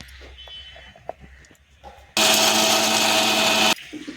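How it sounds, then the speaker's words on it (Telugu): A mixer grinder jar grinds roasted peanuts into powder in one loud, steady whirring burst of about a second and a half, close by, after quiet handling sounds, then stops abruptly. "ఆ వేరుశనగ గింజలు కొద్ది కొద్దిగా వేసుకుని మెత్తగా ఇలా పొడి చేసి పెట్టుకోవాలి మిక్సీ జార్లోని"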